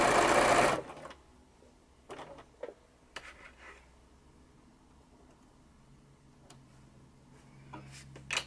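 Sewing machine free-motion stitching fabric flowers: a loud fast burst of stitching at the start, then quiet handling with scattered clicks and light taps from the machine and fabric.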